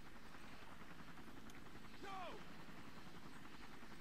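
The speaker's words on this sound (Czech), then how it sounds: "Vrtulník ulít." A helicopter flies away in the video game Far Cry, heard as a faint, steady rotor drone with a brief sweeping tone partway through and no clear speech.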